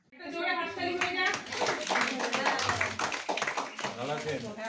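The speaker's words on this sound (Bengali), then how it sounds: "জোরে হাততালি হয়ে যাক।" Hands clapping at a local women's political gathering in Bardhaman right after the national anthem. Loud, fairly continuous group clapping mixes with voices and children talking close by.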